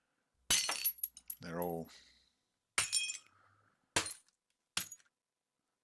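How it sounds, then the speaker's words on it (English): Glass bottles smash in several separate sharp bursts with brief tinkling shards, close and loud against silence, and a voice briefly speaks between the crashes. "hitting some glass, glass bottles break, and glass break"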